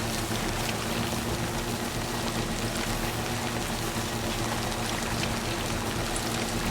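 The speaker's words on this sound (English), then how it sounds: "this rain is killing everything" Timefall rain in Death Stranding 2 pouring steadily, a dense continuous hiss of raindrops on surfaces, even and enveloping over a faint low hum, with no voices.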